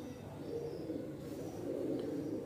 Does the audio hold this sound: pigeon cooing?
yes